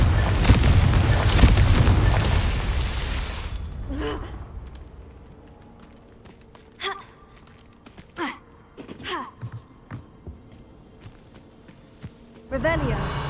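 Confringo fire spell bursting in Hogwarts Legacy, a loud whooshing blast up front that decays into a quiet stretch broken by scattered thumps, clicks and a final louder burst near the end.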